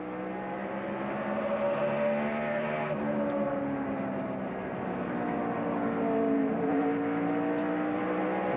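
Matt Kenseth's NASCAR stock car at the 2008 Food City 500 revs through a corner, engine note rising and falling steadily as the throttle is worked, a sustained mid-distance roar.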